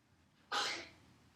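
A single short, breathy sneeze bursts out at close range in an otherwise quiet room.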